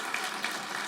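Audience applause at a graduation valediction ceremony, a brief, steady wash of many hands clapping at moderate distance, soft and continuous with no voices standing out.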